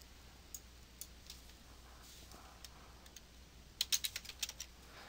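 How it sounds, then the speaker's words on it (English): Keyboard typing for a quick web search: a few scattered faint key taps, then a short burst of quick clicks near the end, all quiet against room hiss. "just type in, let me just do a Google search."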